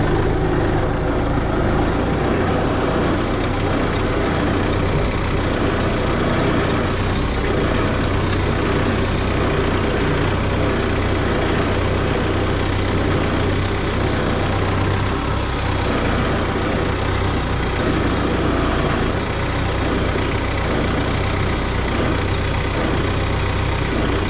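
A tractor engine rumbles steadily at a constant idle, loud and close, with no change in pitch for the whole stretch before a rear rototiller is put in gear in a garden.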